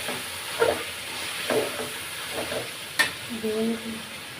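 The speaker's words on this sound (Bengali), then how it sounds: "তারপর আমি এই তেলেই মাংসগুলো দিয়ে দিব, দিয়ে আমি এটা ভালোভাবে কষাবো" Beef for masala curry fries in hot onion-flavoured oil, heard as a close, steady sizzle broken by several scraping stirs and a sharp clink of the spoon against the pan.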